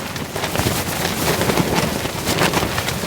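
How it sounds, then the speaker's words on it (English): Strong gale-force wind battering a campsite during a storm, a steady loud roar with gusty surges buffeting the microphone throughout. "It's windy."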